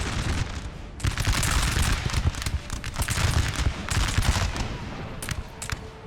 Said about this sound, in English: Okay, returning fire.